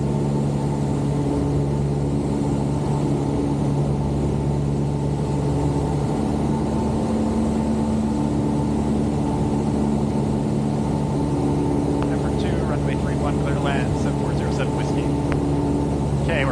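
Light aircraft with a propeller engine adding a little power on approach to hold altitude, a steady, loud droning hum with a constant tone throughout and voices briefly overlapping near the end.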